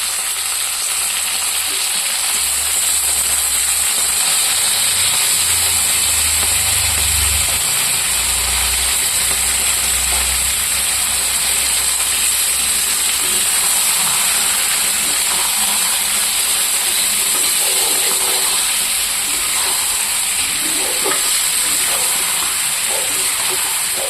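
Chicken meat fries loudly in a pan with oil and onions, a dense unbroken sizzle and hiss that runs close and constant throughout, with a low rumble underneath.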